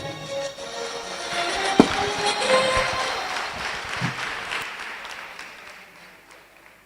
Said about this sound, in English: Please give them a bigger round of applause.